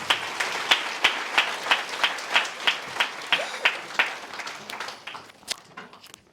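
An audience at a spiritual gathering claps in a steady, rhythmic unison beat that loosens into scattered applause toward the end, fairly close, with a faint voice underneath.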